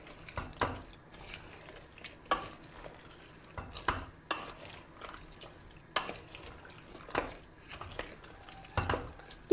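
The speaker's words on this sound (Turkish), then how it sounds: "Onu da şöyle karıştıracağım" A spoon scrapes and clinks against a pan in irregular strokes as ornamental peppers and diced garlic are stirred, with a soft sizzle underneath and no talking.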